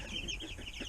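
Cornish Cross meat chickens cluck softly in a brief burst, several overlapping murmuring calls heard close and faint.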